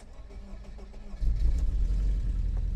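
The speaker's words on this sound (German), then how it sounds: "Also läuft auf 3 Zylindern, hörst du das?" A car engine starts up and settles into a low, uneven running rumble, noticeably lumpy and rough from running on only three cylinders, heard close by with no talking.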